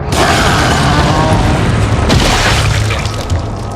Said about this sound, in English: I'm going to use a incendiary grenade and hopefully that will kill him.